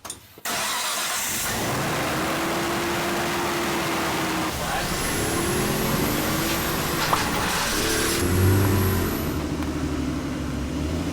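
A Nissan R34 Skyline engine cranks and fires, then idles loudly and close with several rising revs and a small pop near the end, while people talk over it.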